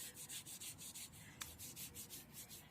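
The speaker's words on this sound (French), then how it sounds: "on frotte les bras sur un et puis sur l'autre" Hands rub briskly along a child's arms during a playful kids' yoga class, making a soft, rhythmic swishing that repeats steadily. The sound is faint, close and continuous, with no voices over it.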